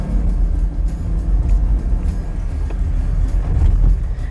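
A 2022 Jeep Gladiator pickup accelerates hard on an off-road track, giving a loud, continuous low engine rumble with rough bumps and rattles.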